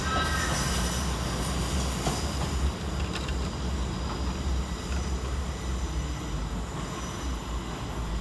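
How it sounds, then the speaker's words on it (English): Class 387 Heathrow Express electric units arriving at London Paddington station, a steady loud rumble of a train rolling in with rail noise, wheel squeal and clatter under the station roof, continuous throughout with no talk. "arriving to terminate behind him with a Heathrow Express service off Heathrow Terminal 5 is 387 135 and 387"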